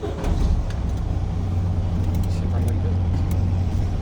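A heavy Class A truck engine idles after starting, building air pressure, with a low, steady rumble, close and continuous, while a person talks over it.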